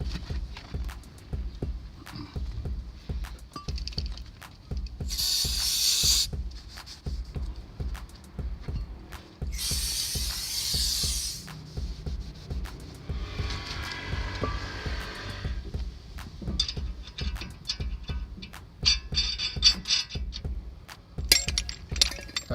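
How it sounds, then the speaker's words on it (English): Toyota Crown JZS175W brake caliper being pried apart during a big brake upgrade, a steady series of dull clicks and metallic knocks with intermittent bursts of scraping and hissing, close and moderately loud, no talk. "What I'm doing now is spreading the caliper so that there's enough room for the pads to get over the rotor."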